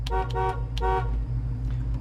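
Horn of a 1979 Chevrolet C10 pickup truck, sounded from inside the cab in three short honks, loud and close, with the last one held slightly longer, over a low engine idle.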